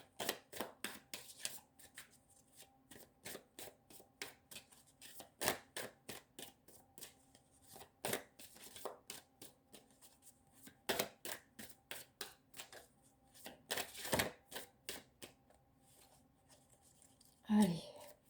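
Tarot cards shuffled by hand, a long run of quick, crisp riffling flicks and slaps in uneven bursts, close and fairly quiet, with a voice speaking softly now and then.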